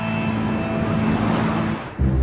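Animated cartoon ocean waves wash steadily onto a beach in a continuous rushing roar, with wind buffeting the microphone and no voices.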